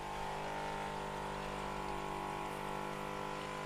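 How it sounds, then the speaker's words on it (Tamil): A steady, even hiss of water spraying from a pump-fed line onto spinach greens in a rooftop garden, continuous and unbroken with no voices. "தினமும் எடுத்து இந்த மாதிரி உள்ளே ஸ்ப்ரே பண்ணுறது கஷ்டமாக இருக்குது"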